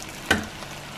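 Eggs hitting a hot pan with red pepper give one brief, sharp sizzle burst that quickly fades into a low, quiet hiss.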